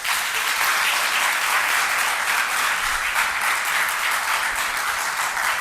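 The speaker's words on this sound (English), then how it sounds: "I want to give her an applause." Audience applause at a youth leadership program grand finale keynote, a dense, sustained burst of many hands clapping in a hall, loud and even from start to finish with no talk over it.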